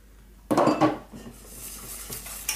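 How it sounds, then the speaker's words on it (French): A whisk beats a cold cream mixture for a Bavarian cake in a bowl, opening with a loud burst of metallic clattering against the sides, then easing into quieter, continuous scraping and tapping strokes. "on fouette, on mélange comme il faut."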